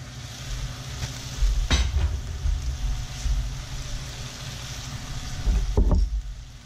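Onions simmer in a pan with stock and sherry vinegar, giving a steady close sizzle and bubbling that is joined by a few louder clatters and bumps of pan or utensil.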